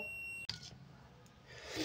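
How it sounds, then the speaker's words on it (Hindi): A digital multimeter on continuity test with its probes shorted gives a faint, steady high-pitched beep that cuts off abruptly, followed by soft rubbing and handling noise. "जब आप लोग इन प्रॉब को शॉर्ट करते हो तो आपको एक बीप साउंड देखने को मिलती है"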